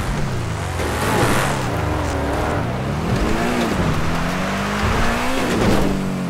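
Cars off-roading on Mount Chiliad in GTA 5, a Lamborghini Urus and Raptor among them, engines revving with rising and falling pitch, tires squealing and skidding, loud and close throughout.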